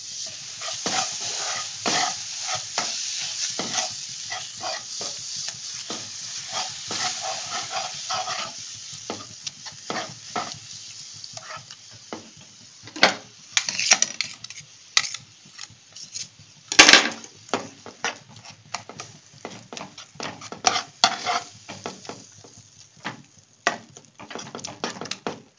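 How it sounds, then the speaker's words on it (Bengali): Flour is stirred steadily in a pan while milk is slowly poured in, for a mushroom and egg breakfast. The close scraping keeps up throughout, with louder clatters in the second half and no speech. "খুব আস্তে আস্তে এর মধ্যে আমি দুধটা দেব। এই ময়দাটা আস্তে আস্তে মেশাবো আর দুধটা দেবো।"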